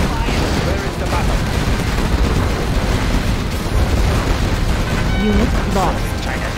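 Rapid gunfire and explosions in a Command & Conquer Zero Hour skirmish battle, dense continuous bursts of shots and booms over several seconds, with a short voiced unit response cutting through.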